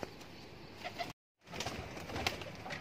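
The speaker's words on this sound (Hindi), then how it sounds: "तो मैंने ये कबूतर बाहर निकाल दिए हैं," Pigeons coo softly in low, rounded calls near a cage, the faint murmuring sounds repeating irregularly with a brief silent gap partway through.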